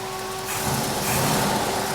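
1980 Pontiac Firebird with its engine idling quietly and smoothly, a low steady hum with a faint whine and no knocking.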